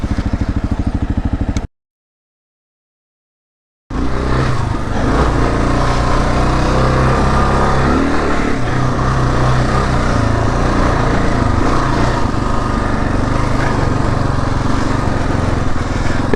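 A 2022 Kawasaki KLR 650 ridden off-road gives a loud, continuous single-cylinder engine drone with mechanical clatter and rumble, cut by a brief silent gap near the start before the engine sound resumes steadily.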